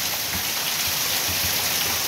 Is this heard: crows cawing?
no